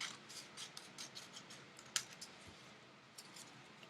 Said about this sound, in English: you're going to take your scissors and you are going to cut it so it becomes a nice half circle like this